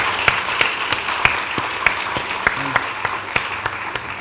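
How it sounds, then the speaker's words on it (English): Sparse, scattered clapping from an audience at a fashion talk honoring the Dior team and Maria Grazia Chiuri, individual claps popping out clearly over a soft room background, with no voices. "Applause to the Dior team and Maria Grazia Chiuri."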